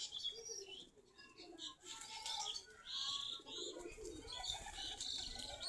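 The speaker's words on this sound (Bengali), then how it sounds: "আমাদের সবগুলা দেশি জাতের কবুতর।" Local breed domestic pigeons coo and chirp softly in a group near a doorway after feeding, with faint wing flutters, a soft steady background murmur of birds.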